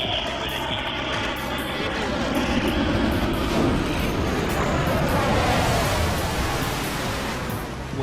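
A Navy jet flies its carrier landing approach, producing a loud, continuous engine roar that swells and shifts in pitch as it passes close by, with no break in the sound.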